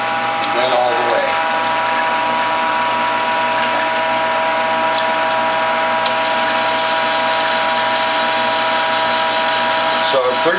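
A Norwalk-style WHF juicer fitted with a zero blowback cutter grinds grapes in a steady, loud mechanical whir with a ratcheting, geared texture, running continuously near the listener with brief clicks at the start and end.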